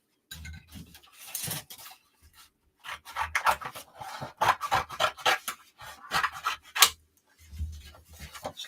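Scissors snip out a paper figure for a creative journal in a run of close, crisp cutting bursts separated by short pauses, with no talking.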